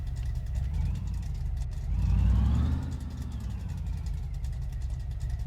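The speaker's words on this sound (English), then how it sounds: "that sounds a bit better with the exhausts installed." A Ford Focus with newly fitted exhausts runs at a low, rumbling idle. It swells in a short rev near the middle, then settles back to a steady drone.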